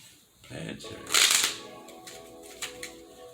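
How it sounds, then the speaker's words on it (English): A quick riffle of tarot cards being shuffled, one short burst of flicking near the middle, with a few faint clicks afterward. "I'm gonna shuffle these one time."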